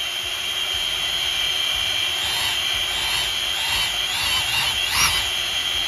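DJI O3 drone motors on a Djinn F25 quad spin up with props on a workbench, a steady high whine that rises in pitch with rhythmic surges toward the end, loud and continuous.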